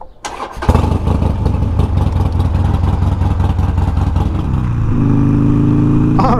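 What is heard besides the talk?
Harley Sportster motorcycle starting and riding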